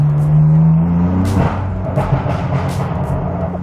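A straight-piped BMW accelerates on a highway with a loud, low droning exhaust that climbs in pitch and then settles into a rough, steady roar.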